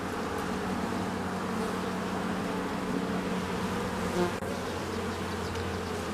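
Honeybees buzz around an open hive as brood frames are inspected in a freshly swarmed colony, a steady, dense drone that holds throughout with no talking.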